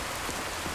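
Steady rainfall pattering on surfaces in The Elder Scrolls V: Skyrim, a dense, even hiss of drops filling the scene, fairly loud and continuous with no voices.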